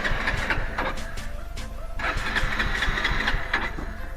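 A petrol motorbike engine, run on test fuel with the choke in use, turns over and runs with a busy, rattling mid-pitched churn that stays close and steady throughout, with no speech.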